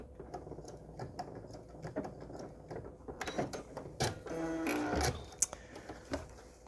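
A standard domestic sewing machine stitches embroidery with a faint, rapid, rhythmic mechanical clatter of the needle, growing busier and slightly louder in the second half.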